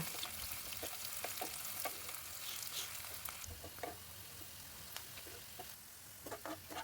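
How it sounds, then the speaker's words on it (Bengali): Thinly sliced onions fry in oil in a kadai (wok), giving a soft, continuous sizzle with scattered sharp crackles and pops, fairly quiet and close, with no voices. "প্রথমে একটা কড়াইতে তেল দিয়ে খুব পাতলা করে কেটে রাখা পেঁয়াজ বেশ খানিকটা ভেজে তুলে নেব"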